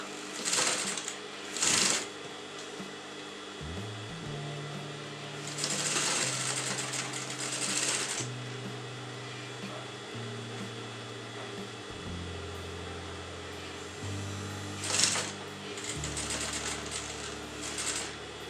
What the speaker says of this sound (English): You're going to sew at the exact margin of the patchwork.